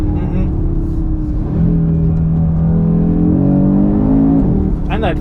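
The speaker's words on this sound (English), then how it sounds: "And that 5-cylinder engine" An Audi RS3's five-cylinder engine revs loudly and steadily, its pitch climbing and holding in a strong rising drone that fills the whole stretch.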